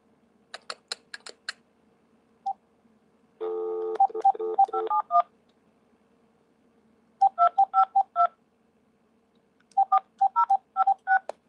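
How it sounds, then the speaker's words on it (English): Telephone keypad dialing tones for a call: quick rows of beeps, a longer busy stretch of tones, then two more clusters of short evenly spaced beeps, clear and close with no other sound. "I'm calling you right just now."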